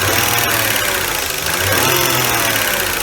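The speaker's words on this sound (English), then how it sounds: "I press on the throttle, nothing happens to a wide open throttle" Lexus GS300 engine held at wide open throttle without picking up revs, giving a steady, loud, rough drone with a ticking, knock-like texture running through it from start to finish.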